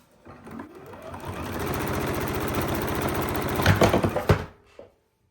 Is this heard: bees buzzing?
no